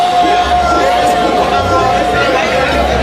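Dense crowd chatter fills a room at a memorial celebration of a life, many overlapping voices forming a loud, constant babble with occasional raised exclamations.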